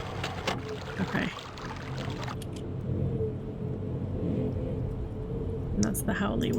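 Low, steady howling wind ambience from the puzzle adventure game Myst, a continuous droning rumble with some brief clicks, heard alone without talk.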